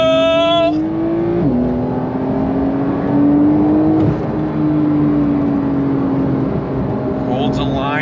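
A Porsche 992 911 Carrera S engine revs up and pulls hard, its pitch climbing and shifting through gears, loud and close, with a voice talking over it.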